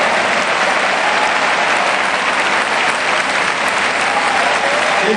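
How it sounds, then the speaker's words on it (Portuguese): A large church audience applauds loudly and steadily without a break, a thick continuous wash of clapping from many hands with a faint murmur of voices underneath. "Eu queria que você desse um aplauso para quem está aí do seu lado"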